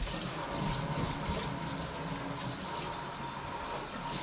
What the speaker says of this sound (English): Enjoy that beautiful sink cleaning action.